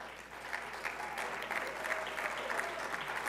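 Steady audience applause at a town hall meeting, a dense wash of many hands clapping at a moderate distance, continuous throughout with little talk.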